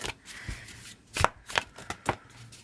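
Tarot cards are shuffled up close, with a few sharp riffling snaps and soft flutters spaced unevenly over a light background hiss.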